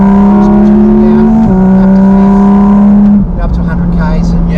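A Porsche GT4 RS engine climbs to high revs in a loud, clean wail from inside the car. Its pitch rises steadily, breaks briefly at a gear change, climbs again, then drops away as the throttle eases.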